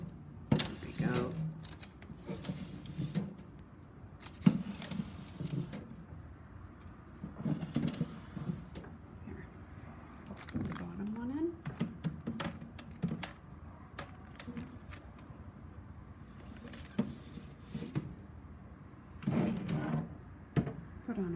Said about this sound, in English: I'm going to slide them in, put the door on, and turn on the dehydrator.